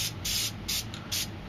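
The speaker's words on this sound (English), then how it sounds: "I'm going to spray a little bit of white right here just to make the moon a little bit brighter." A can of white spray paint lets out three short hissing bursts in an even rhythm, close and fairly loud, each lasting a fraction of a second with brief pauses between.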